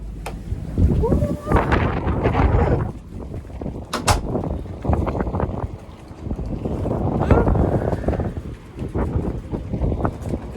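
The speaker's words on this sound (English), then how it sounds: "This is crazy. It is so windy." Strong wind of about 25 knots, gusting over 40, buffets the microphone in the Pacific Northwest in loud, rumbling surges, with rattling and knocking sounds scattered through it.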